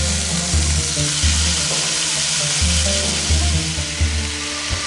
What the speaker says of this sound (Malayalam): ചിക്കൻ സ്കിന്നൊന്ന് ബ്രൗൺ ആവുന്നത് വരെ ഈ സ്റ്റേജിൽ തന്നെ വെച്ച് നമുക്കൊന്ന് കുക്ക് ചെയ്തെടുക്കണം